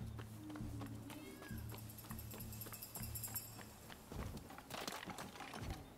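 A cat meows in the video game Rise of the Ronin, giving a few short cries against a steady low game ambience with footsteps and other in-game movement sounds.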